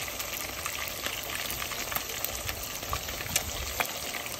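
Whitefish fillets crisping in hot oil in a pan, a continuous close sizzle and crackle with scattered pops, steady and alone.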